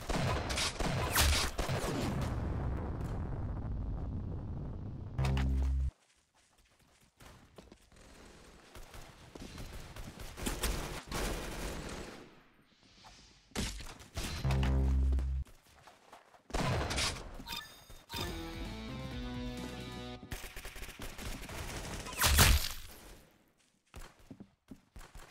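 Gunfire in the video game Arsenal, with bursts of shots and heavy blasts scattered across the clip, some loud and close, broken by short gaps of near silence and no talking.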